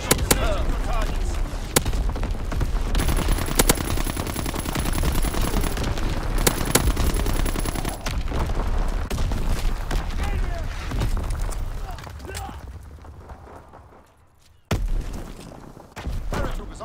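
Artillery firing in a video game: dense, continuous booming and crackling salvos that fade near the end, followed by a brief pause and a final burst, with game voice callouts over the top.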